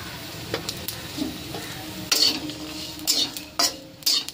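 Nigella seeds, two spoonfuls, dry-roasted in a pan with no oil, alongside green chillies. A spatula scrapes and stirs them in several sharp, close strokes over a low, steady background.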